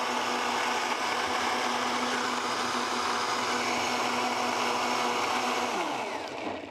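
A kitchen blender whirs loudly and continuously, pureeing thick basil hummus, a steady motor drone that winds down slightly at the very end with no speech.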